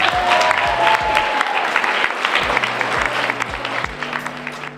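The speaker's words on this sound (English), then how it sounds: "Can I get a round of applause?" School audience at a Poetry Out Loud competition giving a round of applause, loud and close clapping with scattered sharp claps, mixed with low, resonant room tones and bumps, continuing steadily for several seconds.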